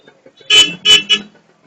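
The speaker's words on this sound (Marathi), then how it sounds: "सिग्नल संपला, काकांना घाई, लगेच हॉर्न मारतात." A car horn honks three times in quick succession at a traffic signal, loud and close, against otherwise quiet street noise.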